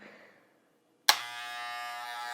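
Reassembled Wahl electric hair clippers switch on abruptly after a brief quiet moment and run with a steady, loud, high-pitched buzz.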